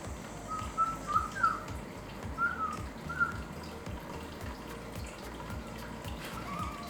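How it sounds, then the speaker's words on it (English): A few short, soft whistled notes rise and fall in loose bursts over a quiet, hissing background. "Are you only whistling?"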